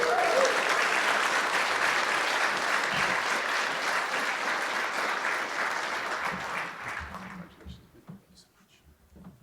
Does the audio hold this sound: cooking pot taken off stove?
no